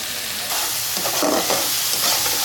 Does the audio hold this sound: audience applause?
no